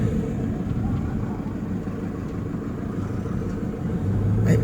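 Road traffic in Baguio City is a steady low rumble of idling and slowly moving engines that stays loud and even throughout, with a slight swell near the end.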